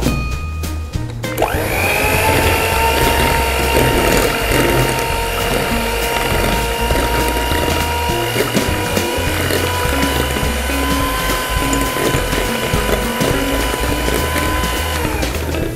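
An electric mixer beats five whole eggs with powdered sugar for a roll cake batter, a steady mechanical whir and rattle that starts after a brief knock and runs loud and unbroken to the end.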